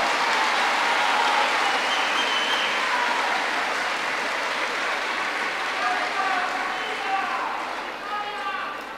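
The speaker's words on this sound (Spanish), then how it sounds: "Un aplauso para todos ellos." Crowd applause for council members at a credentials ceremony after the 2023 elections in Cotopaxi, a broad, steady clapping that carries on and slowly thins toward the end, with scattered cheering voices.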